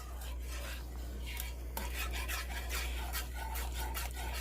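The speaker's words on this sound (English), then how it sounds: "Whisk it up. Keep scraping the bottom, because that's where it's going to be getting thick" A whisk scrapes and stirs homemade sausage-style white milk gravy in a pan, with soft repeated rasping strokes and light metal clinks over a low steady hum, fairly quiet.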